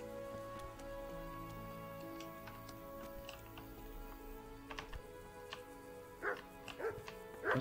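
A dog in the medieval role-playing game Kingdom Come: Deliverance barks several times in sharp bursts near the end, with faint ticking in the quiet ambience before it.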